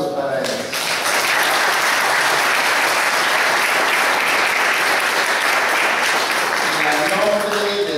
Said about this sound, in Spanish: Les pido un voto de aplausos para ellos